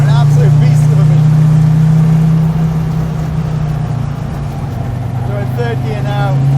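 A 1985 Audi Sport Quattro S1 cruising in third gear gives a steady, heavy low engine drone from inside the cabin, easing slightly midway, while someone talks over it.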